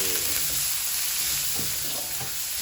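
Ginger stir-fried in a pan over medium-low heat gives a steady, close, dense sizzle, with faint spatula stirring running underneath and no voices.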